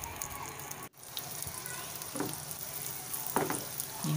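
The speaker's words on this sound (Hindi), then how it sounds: "देखिए कितनी अच्छे से फूल रही है हमारी किशमिश भी, उनको भी अच्छी तरह से फ्राई करेंगे।" Raisins frying in butter for chicken handi, a steady hiss of sizzling fat with a few brief bubbling bursts and a short dropout near the start, fairly quiet and close.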